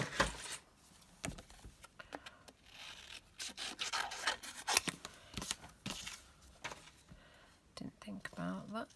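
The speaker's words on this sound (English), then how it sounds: "Need to cut one of these out." Scissors snip and rub through a paper piece for a card project, with irregular cuts and rustling close to the mic while a person talks quietly over the work.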